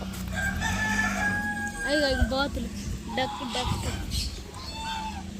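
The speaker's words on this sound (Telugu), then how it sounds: "ఇదొక పుంజు" A rooster crows nearby at a small farm that also keeps rabbits, turkeys and guinea fowl, one loud drawn-out crow with a second call following, over a low rumbling background.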